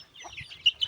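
Hens clucking close by, a few soft short clucks and chirps in under a second, with a sharper squawk near the end.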